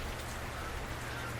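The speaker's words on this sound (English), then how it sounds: "so the rain started" Steady rain falling outside a workshop, a dense, even hiss of drops on surfaces, close and continuous with no other sounds.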